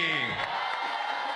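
Live crowd at a street dance battle competition cheering and whooping for the judges, a dense, loud, sustained roar throughout with no clear individual voices standing out.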